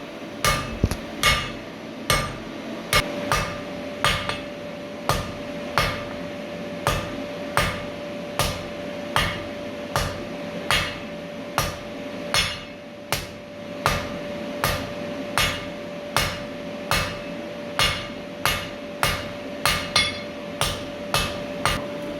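Steel bar end forged on an anvil: steady, evenly spaced ringing hammer blows, about one per second, each a sharp metallic clang with a lingering anvil ring underneath, close and loud, no talking.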